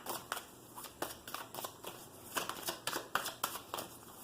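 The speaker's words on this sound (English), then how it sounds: "Let me shuffle this actually real fast." Tarot cards riffled and shuffled repeatedly in quick bursts, a crisp papery flutter recurring about every half second, close up with no talking.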